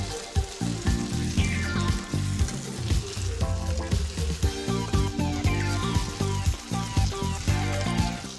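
Eggplant and pork sizzle steadily in a hot pan while stirred, with occasional scraping and clinking over a dense background of music.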